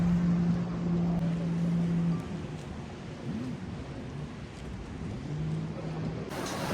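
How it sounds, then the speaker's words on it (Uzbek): A jet ski engine at the Utopia World Hotel beach gives a steady droning tone that drops away after about two seconds and returns faintly near the end, over constant wind and sea noise. "Bu yerda skuter ham bor."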